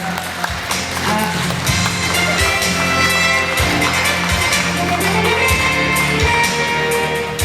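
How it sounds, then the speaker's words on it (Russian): An audience applauds an award recipient at a Khakass ethnic pop song contest ceremony, with clapping running through the whole span over loud stage music carrying a strong rhythmic beat. "Татьяна Балахчина, ваши аплодисменты"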